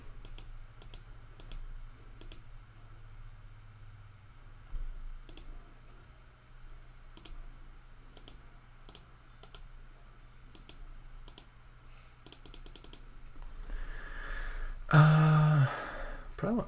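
Computer mouse clicks while playing the card game Dominion online: sparse, sharp single and double clicks scattered across a quiet room tone, with a brief spoken phrase and a louder noise near the end.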